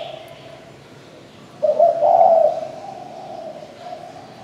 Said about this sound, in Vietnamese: Con này là thổ tốt tiếng,